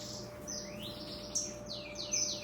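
Twinspot chicks and other aviary birds give high, thin chirps and tweets in a steady stream of overlapping calls, with a couple of sharper, louder peeps over a constant low hum.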